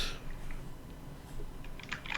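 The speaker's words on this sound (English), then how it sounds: "a stream from a keyboard company is overpowered by the sound of keyboard keys" Rapid typing on mechanical keyboard keys, a brief flurry of sharp clicks close up, with a cluster of louder strikes toward the end.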